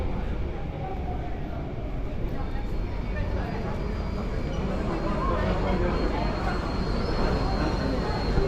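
A metro train rumbles into Chinatown station in Singapore, giving a steady, loud rolling roar that continues at a constant level.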